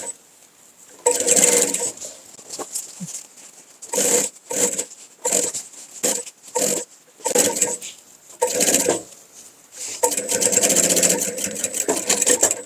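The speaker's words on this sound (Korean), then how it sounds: "박음질을 해주겠습니다" A domestic sewing machine runs a seam on a fabric vest in a series of short, close bursts of rapid whirring stitches, with brief pauses between runs and a longer continuous stretch at the end.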